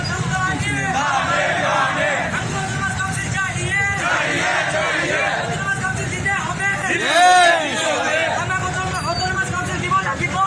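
Large crowd at a mass rally in Assam demanding an Autonomous Council for Manipuris, voices massed into a loud, continuous babble with chanting swells and a brief louder surge near the end.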